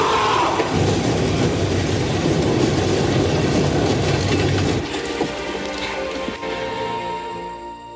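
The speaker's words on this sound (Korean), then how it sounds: "승객을 태운 기차는 무사히 다리를 건너게 됩니다." A passenger train crosses a bridge with a heavy rolling rumble and rattling wheels that is loud at first, then drops in level partway through and trails off as it passes.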